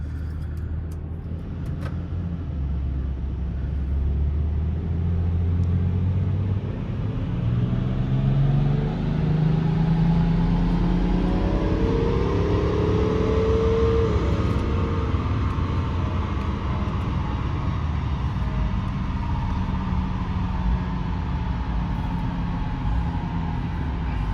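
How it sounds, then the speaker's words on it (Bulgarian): A 235 hp BMW X5 with its DPF removed roars on a brake dyno, the engine revving steadily upward in one long, loud, sustained pull with rising pitch before easing off near the end, with no talking. "И така ще направим измерване на автомобила в оригинал."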